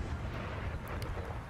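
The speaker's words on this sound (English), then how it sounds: "Let's just let our artillery do their thing." Artillery cannons firing in an Empire Total War battle, heard as a steady low booming rumble with faint distant pops, no voices.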